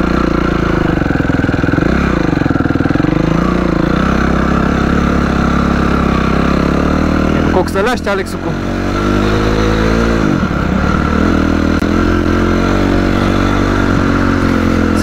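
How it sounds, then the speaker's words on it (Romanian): A scooter on street tyres runs steadily along a stony forest track, its engine droning close and loud throughout with a brief rise in revs midway, while a voice speaks briefly over it. "Să vedem cum merg scuterul prin pădure"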